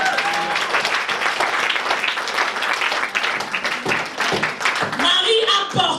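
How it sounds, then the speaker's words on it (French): Congregation in church applauding for a father, a steady wash of clapping from many hands with voices and cheers mixed in, ending with higher tonal sounds. "Est-ce qu'on peut acclamer pour un papa?"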